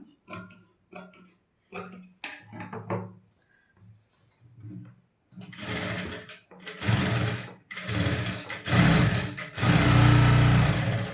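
A sewing machine stitching the front panels of a blouse runs in several loud, sustained bursts with brief pauses between them, after a quieter opening of scattered light ticks and taps.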